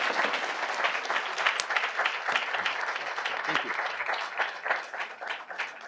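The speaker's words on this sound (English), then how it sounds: "let's give the man a very, very big, large applause." Sustained applause from a sizable audience at a luncheon keynote, steady and fairly loud, with clapping continuing throughout.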